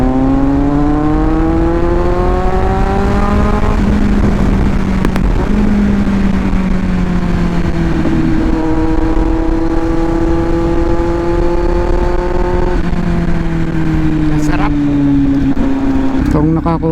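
A Kawasaki Z900 motorcycle's engine revs loud and close as it accelerates through several gears, its pitch climbing and then dropping at each shift over a steady roar of wind.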